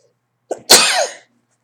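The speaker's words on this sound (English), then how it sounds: "I'm going to sneeze." A single close human sneeze: a brief sharp intake followed by one explosive burst, heard alone in an otherwise quiet room.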